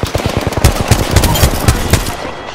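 Rapid gunfire in a battle royale video game: loud, close bursts of automatic shots in quick succession, crackling continuously with brief gaps.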